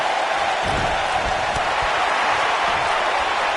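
Arena crowd noise in the WWE 2K19 wrestling video game, a dense continuous roar of cheering and murmur held at a steady loud level throughout.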